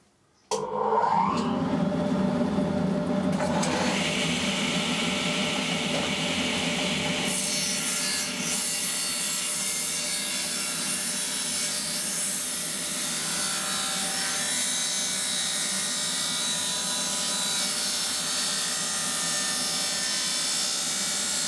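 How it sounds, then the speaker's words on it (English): Wood board pushed through a power planing machine that shaves its edge back to fresh wood while building a child's tractor-style bed; a loud, steady machine roar starts abruptly and runs unbroken, with no talking. "So just a simple push it through, and we just shave a little bit off the edge, just brings it back to nice new wood."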